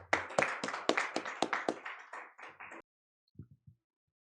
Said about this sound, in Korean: 실장님을 큰 박수로 환영해 주시기 바랍니다.